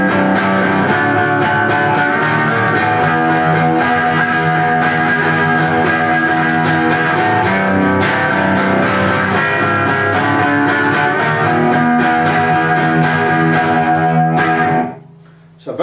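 A 1964 Rickenbacker 330 electric guitar played through effects, distorted, sustaining chords and notes, loud and steady throughout, then cutting off abruptly near the end.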